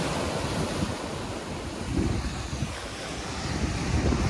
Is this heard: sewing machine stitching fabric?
no